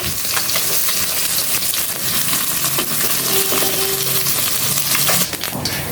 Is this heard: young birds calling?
no